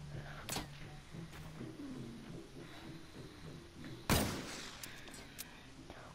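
Gunfire in a video game: two sharp broadband shots, a lighter one early and a louder, fuller blast about two thirds through, standing out over a steady bed of game sound and low rumble.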